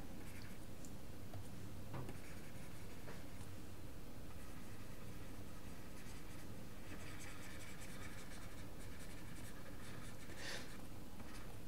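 Handwriting of equations for an intro PDE lecture comes through as faint, scattered scratches and ticks over a steady background hiss, with no talking.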